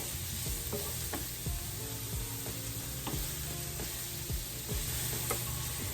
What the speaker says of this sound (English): We're just gonna saute this for about seven minutes or so, 7 to 9 minutes, until the onions and the peppers get nice and soft.